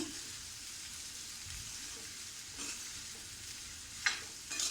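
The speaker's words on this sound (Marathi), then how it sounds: "चवीपुरता मीठ टाकूया. ही सुद्धा आपण छान अशी परतून घेऊया" A potato bhaji is sautéed with salt over a low flame, a soft continuous sizzle with faint scraping of a spatula and one louder clatter near the end, no voices.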